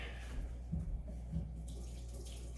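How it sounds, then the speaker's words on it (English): Tap water runs steadily and quietly while hands are quickly rinsed under it in a home kitchen during pulled pork prep, a soft continuous wash with a few light splashy surges. "rinse off my hands real fast"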